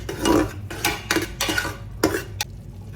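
Salted onion masala stirred in a metal pot, a spoon scraping and clanking against the sides in several distinct strokes, close and fairly loud.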